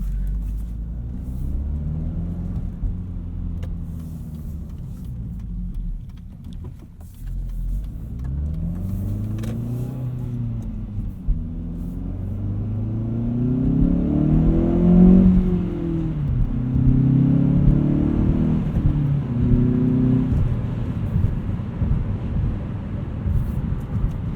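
A 2016 Hyundai Veloster Rally Edition with a turbocharged engine and 6-speed manual accelerates through the gears from inside the cabin, its engine note rising in several sweeps with brief dips at each shift, a steady loud drone underneath.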